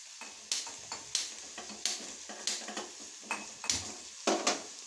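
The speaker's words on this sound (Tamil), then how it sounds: "டுனா ஃபிஷ் பொரியல் ரெடியாகி வருது." Tuna fish poriyal frying in a pan while a spoon stirs it, giving repeated scraping clinks at an irregular rhythm over a soft sizzle, close and fairly quiet.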